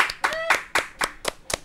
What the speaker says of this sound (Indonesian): Tepuk tangan lagi buat Butika.